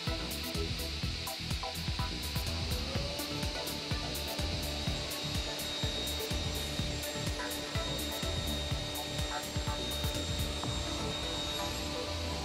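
Hammer C3 31 universal woodworking machine cutting a glued wooden seat to size, a steady loud machine roar with grinding and rasping throughout, no voices.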